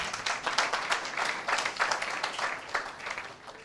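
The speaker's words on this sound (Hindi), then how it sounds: "क्या एक जोरदार ताली दें?" Church congregation applauding during a Hindi sermon, a steady wash of many hands clapping at moderate distance, fairly quiet and continuous for several seconds with no voices over it.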